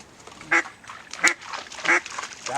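Ducks quack on a waterfowl hunt in Washington near the end of the season, several sharp, raspy calls at irregular intervals, fairly close against quiet outdoor background.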